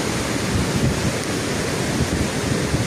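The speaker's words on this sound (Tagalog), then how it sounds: "itong parts ng ilog at dagat na nagka-clash" Heavy storm surf on a beach where rough ocean waves meet river waves, a dense, loud, continuous roar of crashing water with strong wind rumble and no voices.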